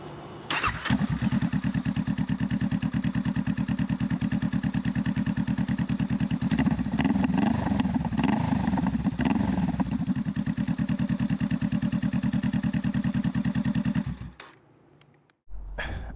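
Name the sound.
Honda Rebel 500 motorcycle exhaust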